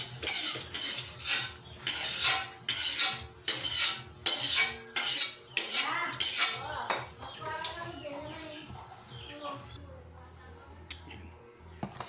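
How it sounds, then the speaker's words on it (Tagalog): Pancit bihon and canton cooked in a large kawa wok, a metal utensil scraping and clanking against the pan in a steady rhythmic beat of strokes that fades to a softer sizzle near the end, with a voice talking underneath. "Mahirap po magluto sa malaking kawa."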